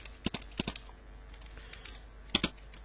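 Typing on a computer keyboard while entering expenses into an Excel sheet: a few scattered clicks, then a quick close pair of keystrokes near the end, crisp against a quiet room.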